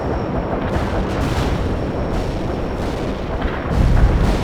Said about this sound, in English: Carpet bombing requested. Stay clear of the area.